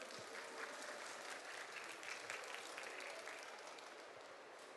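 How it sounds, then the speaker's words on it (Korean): An audience applauds at a 2025 Gyeongnam vocational education fair to welcome a graduate speaker, producing a continuous, even wash of clapping that sounds fairly soft and distant from start to finish. "박수 주셔야죠."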